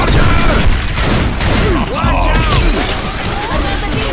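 Rapid gunfire and booming blasts fill a Left 4 Dead 2 co-op round, loud and continuous with sharp repeated shots throughout, while players' voices shout over the action.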